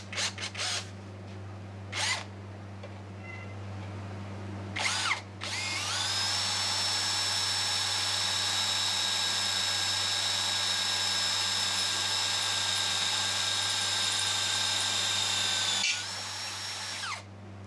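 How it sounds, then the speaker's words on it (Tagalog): A Tanzu power drill fitted with a larger bit gives a few short revs, then spins up into a long, loud, steady high whine lasting about ten seconds before cutting off and briefly restarting, close by, with no talking. "So, ito yung medyo mas malaki ng konti na drill bit."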